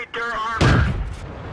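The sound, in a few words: tank gun firing in video game World of Tanks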